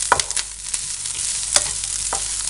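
Grated coconut roasts in a pan over low flame, giving a quiet, continuous sizzle broken by several brief scraping strokes of a spoon stirring it close by.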